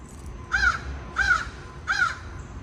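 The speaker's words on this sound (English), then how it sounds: "There's a crow up there talking to us." A crow caws three times overhead at an outdoor garden, loud, harsh and evenly spaced about two-thirds of a second apart, over a low steady background hum.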